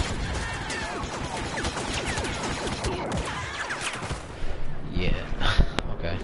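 Ion shot blasts in the Star Wars Battlefront video game, a loud dense barrage of rapid blaster fire and explosions, continuous with a heavier burst near the end.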